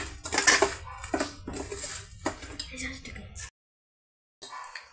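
Roasted gram (putnalu) is stirred into spiced puffed rice in a metal vessel, giving rapid scraping, rattling and clinking of spoon on pan for about three seconds before a pause, under a voice talking.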